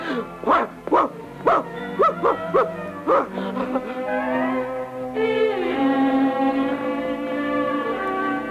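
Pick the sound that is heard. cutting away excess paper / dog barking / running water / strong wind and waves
dog barking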